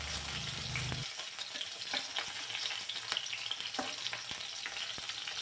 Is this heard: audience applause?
no